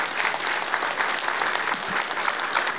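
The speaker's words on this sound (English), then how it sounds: "I would love to give this guy a round of applause" Steady, dense applause from a comic convention audience after a voice actor panel, many hands clapping continuously at a strong, even level.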